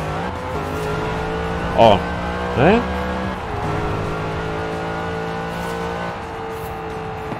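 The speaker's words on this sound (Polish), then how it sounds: "Są lepsze V8-ki w tej grze, które lepiej brzmią." A V8 car in the racing game Forza Horizon 4 holds a steady loud engine drone, with two short sharp tire squeals or revs partway through, under a voice exclaiming and talking.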